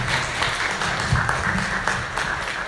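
Audience applause after a mental health panel speaker, a loud, dense crowd clapping that stays steady for the whole stretch, with low room rumble and a few louder claps rising above it.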